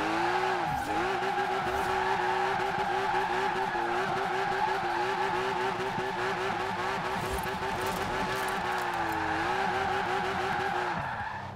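Rocket Bunny 2015 Porsche Cayman GTS in Forza Horizon 4, its engine screaming near the rev limiter while drifting, with a steady loud howl, pitch dips on shifts and continuous tire squeal throughout.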